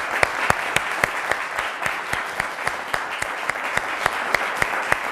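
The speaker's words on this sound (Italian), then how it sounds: "Facciamo comunque un applauso a Caneva" Applause at an Italian televised quiz show: a dense, loud, steady crowd of clapping hands with sharp individual claps standing out throughout.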